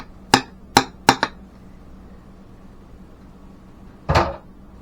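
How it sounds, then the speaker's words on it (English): A spoon is knocked against a pot to shake off excess icing, four quick sharp raps in a row, then a pause and one final knock, close and clear with no talk. "Knock the excess off your spoon."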